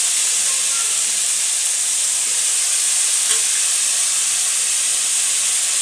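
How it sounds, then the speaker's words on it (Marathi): Bombil (Bombay duck) fish, brinjal and potatoes frying in a pan give off a loud, steady hiss and sizzle, close by and unbroken, with no talking. "हे वांग बटाटे टाकून दिलं आणि मग त्याला नीट फ्राय करलं"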